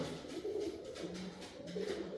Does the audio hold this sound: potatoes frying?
no